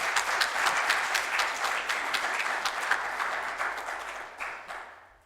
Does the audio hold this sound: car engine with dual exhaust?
no